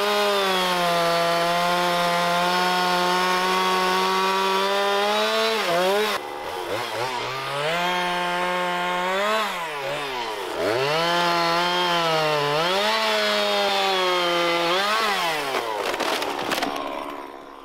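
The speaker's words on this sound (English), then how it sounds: "So Elias decided to cut it down with his chainsaw." A chainsaw cuts through a fallen log blocking a jump line on a mountain bike trail. The engine screams loud and close, holding a steady high whine that bogs down and revs back up as the chain bites into the wood.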